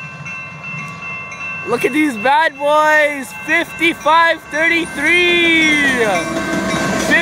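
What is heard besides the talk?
double engine CN freight train passing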